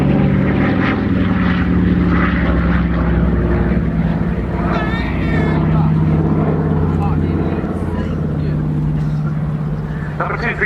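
A Douglas Dakota propeller transport of the Battle of Britain Memorial Flight drones loudly and continuously past the RIAT 2014 airshow crowd, its engine roar steady throughout while a commentator talks over it.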